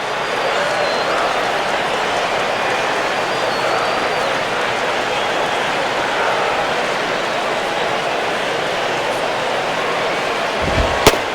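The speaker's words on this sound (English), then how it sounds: "Oh, and the crowd will boo here." Steady, dense crowd roar fills a baseball stadium in MLB 10: The Show, with the Florida Marlins at Philadelphia, holding at an even loudness throughout, followed by a brief sharp spike near the end.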